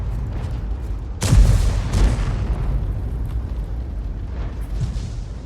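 An artillery shell from a 203mm gun lands a direct hit on an IS-7 tank in a tank video game, a single loud boom followed by a second burst over a continuous low rumble of engine and battle noise.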